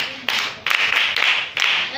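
A class of students claps for a classmate during a maths bootcamp lesson, in four loud bursts of group clapping with sharp onsets and brief gaps between them.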